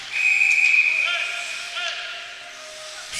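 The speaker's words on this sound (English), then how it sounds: "Whistle there." A referee's whistle at a U16 AAA ice hockey game between the Cape Breton Jets and Cabot Highlanders gives one sharp, sustained blast of about a second, loud against the rink's background noise.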